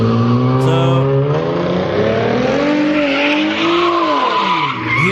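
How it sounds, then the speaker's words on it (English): Tires squeal long and loud as a car fishtails and skids out of control late at night, the screech bending in pitch over a continuous engine roar. "he fishtails, completely loses control of the car, slams right into one of those, concrete bollards"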